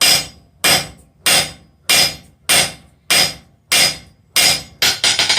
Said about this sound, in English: this is a 1 3/4 pound hammer